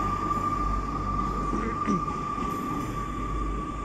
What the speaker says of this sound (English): Departing now is the 1649 East Midlands Railway service to Derby